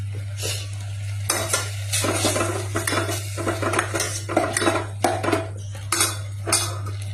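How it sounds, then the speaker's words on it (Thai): Chili stir-fried in a pan, with repeated metal utensil clanks and scrapes against the pan over a steady background hum and a faint sizzle, close and fairly loud. "ไปผัดกับพริก"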